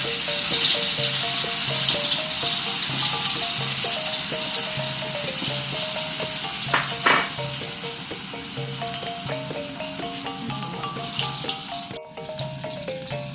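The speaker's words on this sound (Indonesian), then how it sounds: "mie yang kita bulatkan tadi kita goreng lagi sampai kuning" Rounded noodle balls fry in hot oil in a wok, a steady close sizzle and crackle running throughout with occasional stirring clinks and a brief sharp burst near the middle.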